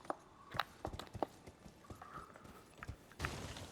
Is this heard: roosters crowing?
no